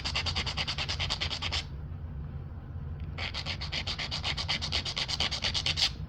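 The edge of a rootbeer chert flake is ground during knapping, making steady, scratchy rubbing strokes in two long bursts separated by a brief pause, close and continuous.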